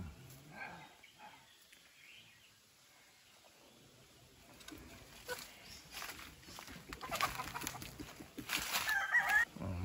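A four-month-old white kelso gamefowl rooster and other chickens cluck in a farm yard, with scattered bursts of clucking that grow busier and louder toward the end.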